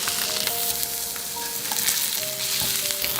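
Fish sizzles steadily in hot oil in a pan, seasoned with sea salt and black pepper, a close, constant frying crackle with faint tonal ringing running throughout and no voices.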